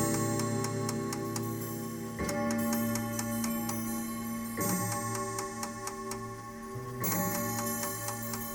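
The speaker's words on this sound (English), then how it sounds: "the sound of a distant clock ticking breaks the silence." A clock ticks in the distance within a quiet scene of a detective story, with steady rhythmic ticks over layered tonal background music and no voices.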